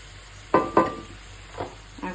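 Fish-sauce mixture frying over a raised stove flame, a few short bursts of stirring and sizzle, two close together at first and then two more spaced out, over a quiet background.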